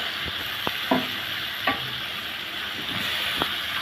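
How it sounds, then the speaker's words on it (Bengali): Sweet pumpkin pieces stirred into fried spice paste in a pan, steady sizzle broken by several distinct scrapes and taps of the spoon, close up with no talk. "এখন নেড়ে চেড়ে নিব মশলার সাথে মিশে নিয়েছে"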